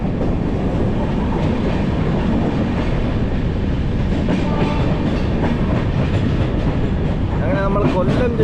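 Interior rumble of a moving train passing Kollam Junction, a loud steady roar of wheels and carriage with faint rhythmic clatter and some squealing tones near the end.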